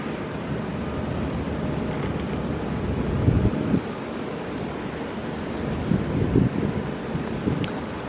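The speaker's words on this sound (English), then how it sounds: "I think that the wind is blowing" Steady outdoor wind by a pool buffets the microphone as a constant broadband rush, with a couple of louder low gusts partway through and no talking.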